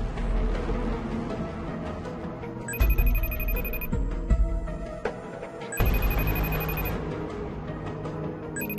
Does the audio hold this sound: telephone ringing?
yes